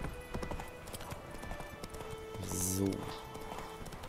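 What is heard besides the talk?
horse hooves while riding, from video game The Witcher 3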